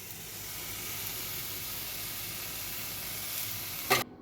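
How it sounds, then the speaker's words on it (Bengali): Spice paste of turmeric, cumin, coriander paste and salt, with two bay leaves, sautéing in a pan for chicken curry: a steady, even sizzle heard up close and quite soft, ending in a brief clatter, with no voices. "মশলাটা আবারও একটু ভালো করে কষিয়ে নিয়ে দুটো তেজপাতা দিয়ে দিলাম"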